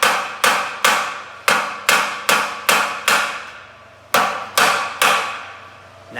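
A hammer strikes metal repeatedly, peening a weld bung over onto a gas tank: about a dozen sharp, ringing blows at a steady, slightly uneven pace, loud and close, each decaying quickly, with no talking.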